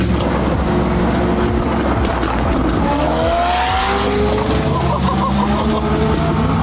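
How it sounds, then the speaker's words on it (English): A group of supercars passes on the road, engines roaring loud and close while tires squeal in rising, drawn-out whines over a continuous engine din. "The one nice thing having a quiet car is you can hear the other cars."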